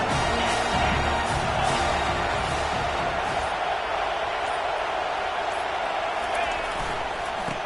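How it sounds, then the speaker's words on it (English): Broad, continuous roar of a large stadium crowd at a Baylor vs Tulane American football game, loud and sustained, with a commentator's voice talking over it. "Here comes the crowd noise trying to help this defense out."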